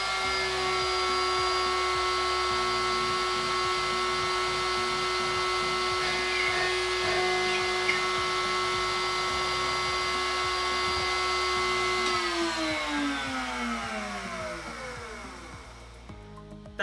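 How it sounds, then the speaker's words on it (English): A WorkBee CNC machine drilling a hole in a workpiece under jog control of the Z axis, a steady high motor whine with a descending pitch sweep as it winds down near the end, no talk. "So what I'm doing now is just drill a hole ahead there"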